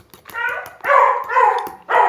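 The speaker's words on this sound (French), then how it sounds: "Donc désolé, il y a Doudou qui aboie" A dog indoors in a home kitchen gives several sharp barks and yips in quick succession, loud and close, with a short gap before a final bark.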